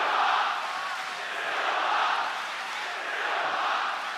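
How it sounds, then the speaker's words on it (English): Arena crowd at a UFC event in Melbourne chanting a fighter's name, a steady swelling roar with rhythmic surges rising and falling every second or so, distant and filling the hall. "I believe I'm hearing Silva chants here in Melbourne."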